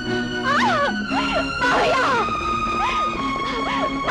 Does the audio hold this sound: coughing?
no